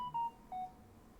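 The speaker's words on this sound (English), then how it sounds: "Sorry, that's my phone that just got a message." Two short electronic phone message tones, a bright clear beep followed by a slightly lower one, sound close and alone over quiet room tone.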